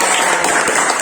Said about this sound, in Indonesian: Oke, kasih tepuk tangan yang paling meriah.